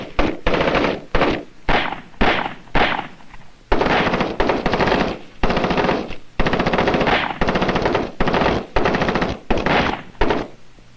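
Bursts of machine gun fire from captured enemy weapons during Vietnam War training with the US 101st Airborne, 1st Brigade, loud and close, in a dozen rapid rattling volleys separated by short gaps.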